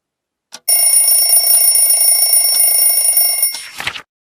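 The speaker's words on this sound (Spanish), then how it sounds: "El despertador hace ring." A household alarm clock rings loudly and continuously for about three seconds with a bright metallic bell tone, preceded by a brief click and ending in a short clattering noise.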